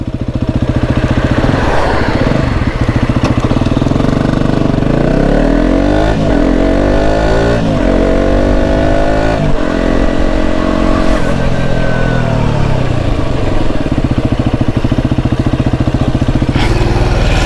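A motorcycle rides off for a brake test, its engine loud and close throughout, revving through rising and falling pitch sweeps over a continuous mid-range roar with no talk.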